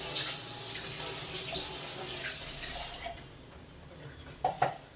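Water runs from a tap while a container of leftover curd is rinsed out, a steady splashing stream that cuts off partway, followed by a couple of soft knocks and splashes.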